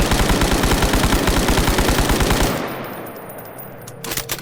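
An automatic rifle in the Stalker Gamma video game fires a rapid, loud, evenly spaced burst for about two and a half seconds, then the shots stop and a few faint mechanical clicks and rattles follow.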